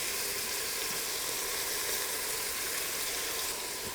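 Chicken fries in a metal pot with a loud, steady sizzle that holds evenly throughout, close up and with no talk.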